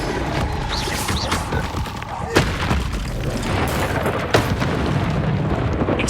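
A Confringo blasting spell in Hogwarts Legacy sets off a dense, continuous rumble of explosive booms with a couple of sharper bursts over it, loud and close amid combat noise.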